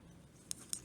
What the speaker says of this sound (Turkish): ilmeğimi şöyle düzelterek kesiyorum